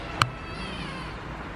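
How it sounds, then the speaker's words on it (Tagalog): An adopted house cat lets out one brief, bright meow near the start, then falls quiet over a steady background hiss. "meron nga pala kaming ampon na pusa"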